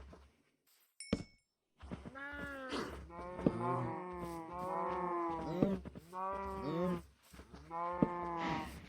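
A Minecraft sheep that sounds like a cow gives a series of drawn-out, moo-like bleats, four or five calls in a row, close and fairly loud, with short pauses between them and a brief electronic chirp just before.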